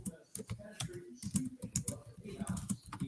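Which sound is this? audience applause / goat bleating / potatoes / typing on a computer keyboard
typing on a computer keyboard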